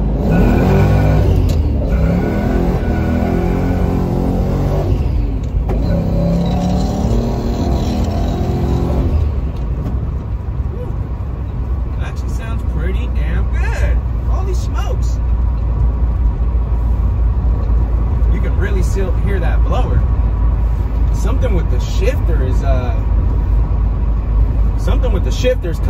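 A Ford Foxbody fitted with a swapped 5.0 V8 revs hard and climbs through the gears, a loud continuous engine roar that rises and falls across the shifts.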